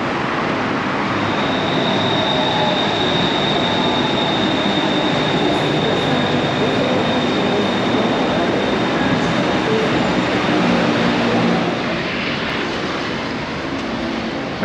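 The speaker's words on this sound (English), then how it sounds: "Shuttle to the Sky Train and then a couple of stops." Steady rumble and rushing hiss of a Bangkok Sky Train carriage in motion, a continuous loud ride noise with a faint high whine running through it and no voices.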